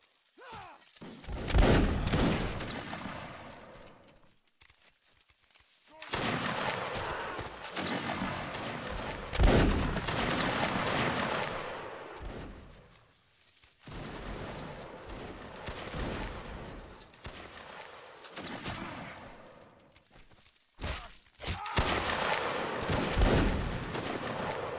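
Musket volley fire in Napoleonic Wars line battle, several loud crashing volleys of many muskets firing together, separated by short quieter gaps, with rolling echoes and little talk.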